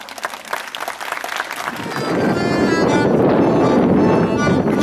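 An outdoor audience at the opening of the Gietrzwałd gardens breaks into applause for a theatre band, the clapping swelling after a couple of seconds into dense, sustained, loud applause.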